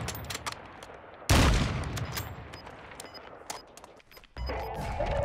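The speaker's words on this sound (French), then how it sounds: "Ah, j'entends tirer." Gunfire in the video game Warzone 2: a loud nearby shot cracks out, followed by scattered bursts and distant firing echoing around, with a muffled rumble of movement between shots.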